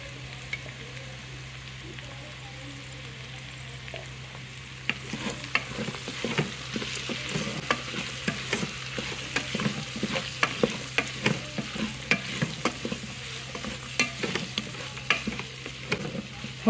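Vegetables and spices for veg pulao fry in a Geek Robocook, a soft sizzle that turns busier with scraping stirs and crackles partway through, close and steady.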